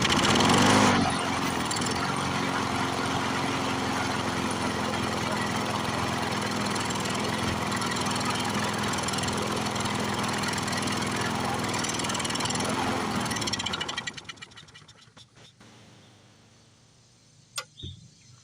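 A Briggs & Stratton 6 hp engine, freed after being stuck from sitting and now fed fuel by bottle, runs loud and steady for about thirteen seconds, then sputters out and dies, leaving near silence and one sharp click.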